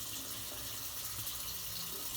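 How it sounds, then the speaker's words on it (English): A gold chain is rinsed under a running tap in a sink: a steady, even gush of water with a constant hiss and no pauses, moderately quiet and heard alone. "run it under the water just to do a final little rinse"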